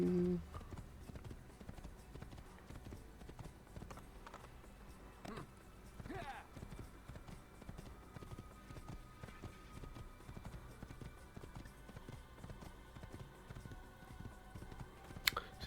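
A horse gallops in a video game, its hooves clip-clopping in a quick, steady rhythm throughout. The hoofbeats sit at a low, fairly distant level beneath faint game ambience, with no speech.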